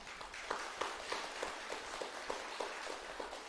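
Faint, dense applause from an audience at a Buddhist dharma service at Guryongsa temple in Seoul, with scattered sharper claps rising over a steady patter for the whole stretch.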